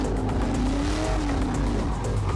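A car engine revs hard under heavy throttle while its tires squeal and skid during a precision-driving run, loud and close throughout with no pause.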